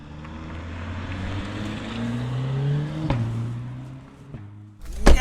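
Engine of a 2021 Mercedes A45 AMG S heard from inside while driving, a steady loud drone with rising pitch under acceleration, a brief gearshift break, then a surge of revs at the end.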